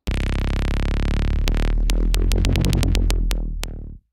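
Wavetable synth patch run through chorus and phaser: a bright, wide sustained tone that gives way to a rapid run of short plucked stabs, loud and alone, cutting off cleanly near the end.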